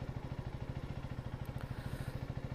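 A motorcycle over 200 cc idles while warming up, its engine thumping in a fast, even rhythm, low and steady throughout, fairly quiet and without talk.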